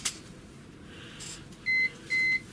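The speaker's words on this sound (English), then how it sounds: "that's a high-speed alarm there. It's just going off." A wind turbine controller's high-speed alarm gives two short, steady electronic beeps in quick succession, close and clear over a low background hum during strong winds.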